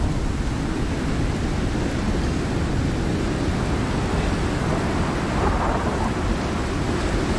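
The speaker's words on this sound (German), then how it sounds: "Wenn hier gleich der Blitz einschlägt" Thunderstorm in the survival game Icarus, a steady, dense roar of heavy rain with deep rumbling thunder underneath, continuous and loud throughout.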